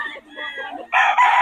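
A young gamecock stag crows at a seller's place in Bocaue, one short, loud, near call that swells into a hoarse final note, with someone speaking in the background.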